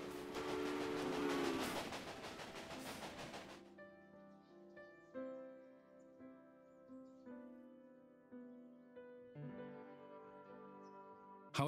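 A steam-era train runs on a rail line in the railroad strategy game Railway Empire, set in 1863 Nebraska: a loud rumbling chug at first, then gives way to tonal musical notes and softer rolling sounds.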